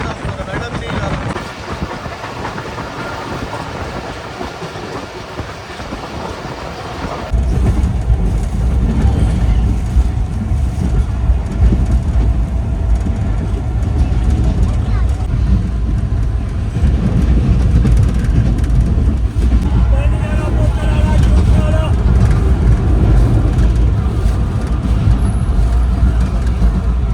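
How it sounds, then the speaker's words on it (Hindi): Allama Iqbal Express passenger train running steadily toward Pattoki station in Pakistan, a loud continuous rolling rumble that grows heavier partway through, heard from inside an AC coach with faint voices now and then. "तो 2:18 पर ट्रेन हमारी अप्रोच बना रही है पत्तोकी रेलवे स्टेशन को।"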